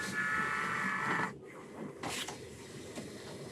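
EKG machine printing a 12-lead ECG, a faint steady mechanical whir of the printer for about a second before it stops, followed by quiet clicks and room noise.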